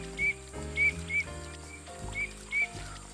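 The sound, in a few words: teal whistle call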